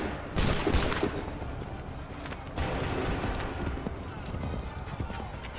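Soldiers open fire in the video game Assassin's Creed III, with two sharp, loud volley bursts of gunfire followed by a rumbling battle din and a voice speaking over it.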